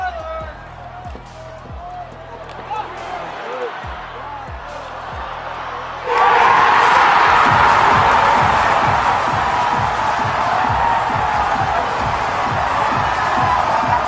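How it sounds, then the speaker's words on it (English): A hockey crowd at a Stanley Cup Final game between the Panthers and Oilers erupts about halfway through, a sudden loud roar of cheering that stays high, after a quieter stretch with a rhythmic thumping beat. "let's listen to this crowd here"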